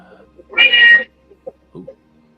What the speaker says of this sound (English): That meow right when you was talking, looked like you were meowing